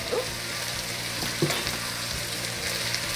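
Two tablespoons of tomato paste sizzle in a pot of poblano chicken squash chili, a steady close frying hiss with a few soft stirring knocks and no talk.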